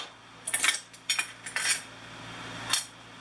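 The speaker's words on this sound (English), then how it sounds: "Put my 8 spark plugs in my magnetic dish." Metal spark plugs clink into a magnetic metal dish, several sharp, close clinks spread unevenly over a few seconds, each with a short bright ring over a quiet background.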